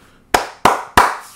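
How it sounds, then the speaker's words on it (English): Three sharp hand claps in quick, even succession, close and loud with nothing else around them. "I don't know why the fuck I just clapped."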